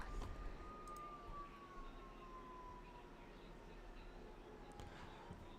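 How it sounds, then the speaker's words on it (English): A siren wails faintly in the distance at a baseball game at Wake Forest University, its tone slowly sliding downward over a steady low rumble of background noise. "Sirens going off in the distance here"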